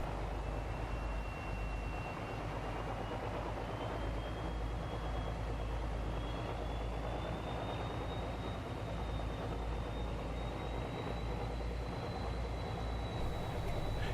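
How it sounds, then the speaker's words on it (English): Class 17 Clayton diesel locomotive with twin Paxman engines hauling a livestock train through a yard, a steady low rumble and drone building as it approaches, with a rising whine over the engine noise and no talk. "twin Paxman engines can be heard moving towards us"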